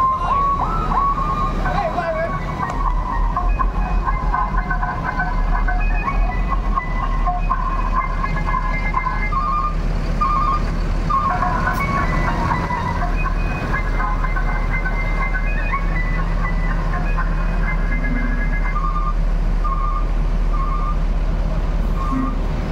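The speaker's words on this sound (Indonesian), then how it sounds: "knalpotnya ada telolet-telolet, ada melodinya" Bus V67's telolet horn sounds its repeating melodic tones, loud and close over a constant engine drone at a bus departure, with people talking in the background.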